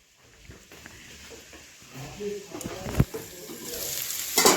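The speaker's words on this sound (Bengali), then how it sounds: "আলু পেঁয়াজ ভাজা আবার একটু ভেজে নেব" Potatoes and onions sizzle in a frying pan, a steady crackling hiss that grows louder toward the end, with sharp scrapes and clinks of stirring and brief speech nearby.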